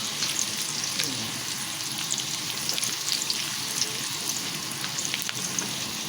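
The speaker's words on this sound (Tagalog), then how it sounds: "Papulahin natin yung sibuyas." Onion and garlic fry in a pan for fried rice, giving a steady close crackling sizzle with faint stirring and clinks throughout.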